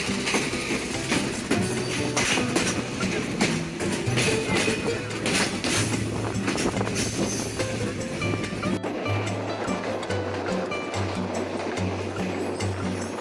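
The Rupsha Express pulling out of Bheramara railway station, a continuous rumble and rattle of carriages heard from on board, with a shift in tone partway through as the wheels roll on.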